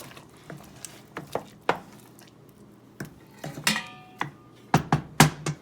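A spoon stirs spaghetti sauce ingredients in a pot for homemade spaghetti, with loud, irregular clinks and scrapes of metal against the pot, close up and without talk.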